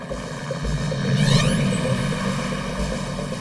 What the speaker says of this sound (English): Police dispatch helicopters to search for the vehicle.